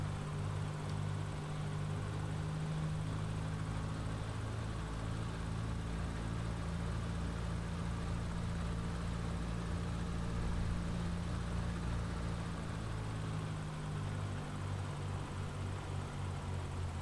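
A PA38 Tomahawk's propeller engine drones steadily in an X-Plane 11 flight, a constant moderate hum with no voices over it.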